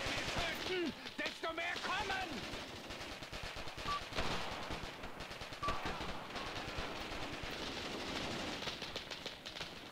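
Sustained machine-gun and rifle fire in a World War II tactics video game ambush, dense overlapping bursts and cracks that run without letup, with battlefield rumble beneath.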